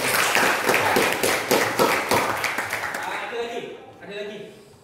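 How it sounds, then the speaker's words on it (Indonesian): A classroom claps for a student in a history lesson: dense, brisk applause lasts about three seconds and then fades as a voice begins speaking. "Oke, tepuk tangan untuk Mbak Email."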